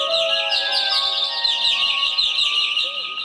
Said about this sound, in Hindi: और इन पेड़ों पर चहकने वाले पंछी